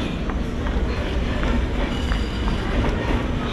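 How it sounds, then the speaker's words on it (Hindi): A train rolls steadily through a station on the Patna–Kiul line in India, a continuous loud rumble of wheels on rails with faint rhythmic clicks, close by and with no voices. "ये ट्रेन जा रही है पटना किउल इस साइड में जा रही है।"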